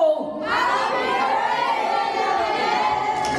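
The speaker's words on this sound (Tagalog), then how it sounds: "isang malakas na sigawan po tayo dyan ng Happy Birthday, Mami Beth!" A crowd at a festive holiday mall event in Alabang shouts Happy Birthday together, a loud, sustained mass of voices that bursts in after a brief near-silent moment and holds steady to the end.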